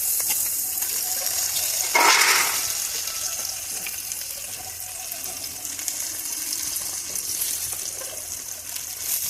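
Tomato tossed into a pan of fried okra sets off a sudden loud sizzling burst, then settles into a steady hissing fry that carries on at a lower level with no talking.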